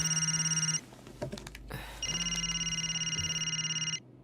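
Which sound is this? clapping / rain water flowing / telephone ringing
telephone ringing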